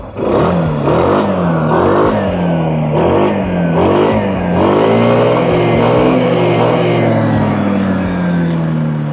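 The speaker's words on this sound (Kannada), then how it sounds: "ಈಗ ಆನ್ ಮಾಡ್ತೀನಿ ನೋಡಿ ನೋಡಿ ಯಾವುದೇ ಇಂಜಿನ್ ನಾಕಿಂಗ್ ಸೌಂಡ್ ಇಲ್ಲದೆ ಸೈಲೆಂಟಾಗಿ ಸ್ಟಾರ್ಟ್ ಆಗುತ್ತೆ ಎಕ್ಸಾಸ್ಟ್ ನೋಟ್ ಈ ರೀತಿ ಇದೆ" A Hero Xoom 160 scooter engine runs steadily close by, starting quietly without knocking, revving up and down in repeated rising pulses with a throaty exhaust note, no talking.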